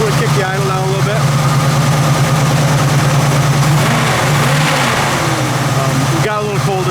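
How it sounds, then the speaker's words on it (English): A deep V8 car engine idles with a steady, throbbing rumble in cold weather, while someone talks over it. "I'm going to kick the idle down a little bit."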